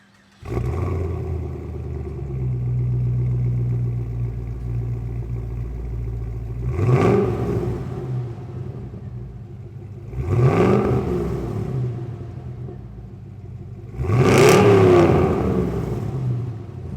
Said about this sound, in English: let's get a cold start on this thing and see what this thing sounds like.